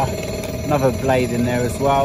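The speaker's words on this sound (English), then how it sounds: "Sorry about the noise, they're doing work on a new bus station over there." Construction machinery works on a new bus station nearby, a steady engine drone running under close, continuous talk.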